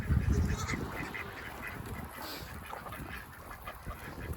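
Chickens and ducks on a farm make soft honking, quacking calls that stay faint against a low outdoor background, with a few scattered bursts.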